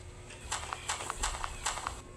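Hooves clip-clop at a steady walking pace, several distinct knocks at close range, with a low background rumble and no speech.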